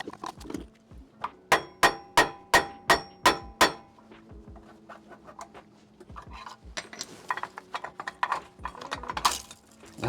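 Sharp metallic hammer strikes on the brake line safety latch of a 2005 GMC Yukon XL, about eight loud evenly spaced blows close by, followed by lighter clinks, taps and rattling.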